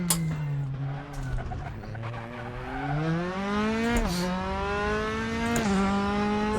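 A formula racing car in the RaceRoom sim at Circuit de Pau-Ville, its engine note climbing steadily through the gears, with brief dips at each upshift and a loud, continuous high-revving whine throughout.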